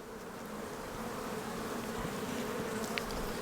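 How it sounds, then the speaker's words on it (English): Steady, dense buzzing of many honey bees at close range at a hive, continuous and even throughout with no voices. "A lot of emerging bees coming out."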